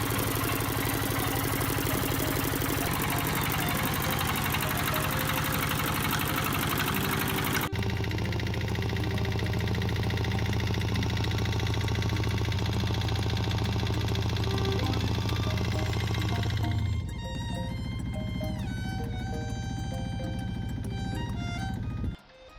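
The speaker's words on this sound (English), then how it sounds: "a small ferryman diesel at 6 horsepower strains under load to power a set of classic filament bulbs" Old stationary engines run steadily, among them a steam engine and a small 6-horsepower Ferryman diesel straining under load to power classic filament bulbs; a constant low drone and chug carry throughout, the tone shifting partway and thinning near the end.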